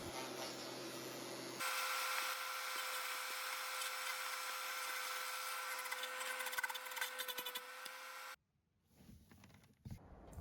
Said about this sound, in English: This is our mini electric wood chipper.